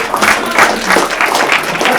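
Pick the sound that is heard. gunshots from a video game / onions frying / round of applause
round of applause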